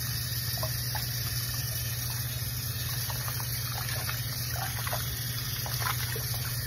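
Water is poured and swirled in a container while parts of a 2006 Gemmy Rudolph Abominable Snow Monster figure are washed. A faint, steady sloshing trickles over a constant low hum for several seconds, with no talking.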